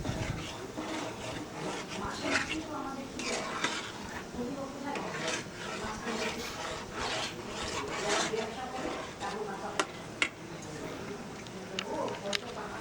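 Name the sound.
continuously stirring raw mango pulp in pan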